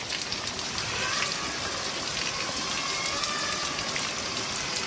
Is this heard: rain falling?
yes